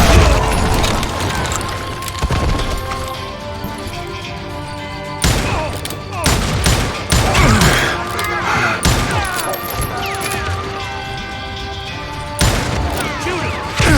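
Gunfire in Call of Juarez: Gunslinger crashes out in loud, repeated bursts of western shootout shots mixed with game sounds and shouting voices.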